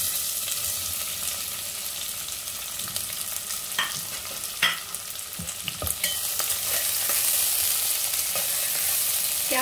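Onions frying and being stirred in a pan for Sindhi-style bhuga chawal pulao, a steady close sizzle broken by sharp scraping clicks of the spoon, no voices.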